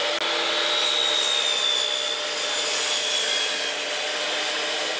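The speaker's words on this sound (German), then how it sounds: "Lass uns einfach mal den Schlitz da reinschneiden." A chop saw cuts a slot into a zero-clearance insert, giving a steady, loud, broadband whine and rasp that holds evenly for several seconds, with a faint high tone drifting through the middle.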